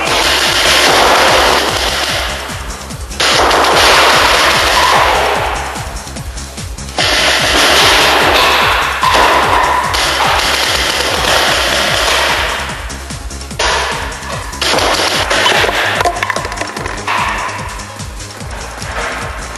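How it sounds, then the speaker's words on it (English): Paintball marker fired in rapid bursts from behind a bunker on a paintball field, loud and close, with sustained rattling volleys broken by short pauses. "when I shot out the right-hand side, I was shooting right-handed. But when I shot out the left, I switched hands and I was shooting lefty."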